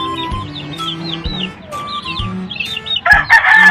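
Chickens cluck and a rooster crows close by inside a coop with young chicks, overlapping calls and chirps ending in a loud, harsh crow.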